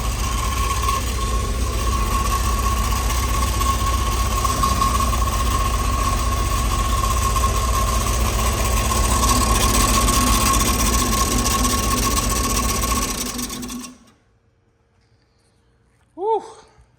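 An old engine with finned cylinder heads, smoky and noisy, runs with a rough, steady droning rumble for about fourteen seconds before shutting off abruptly, leaving near silence broken by a brief voice.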